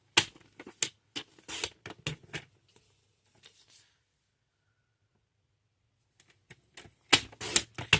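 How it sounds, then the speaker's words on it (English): Card stock being cut into three 1-inch strips for card making, heard as crisp, close bursts of cutting and paper handling at the start and end, separated by a quiet pause. "And then we're going to cut 3 strips that are 1 inch."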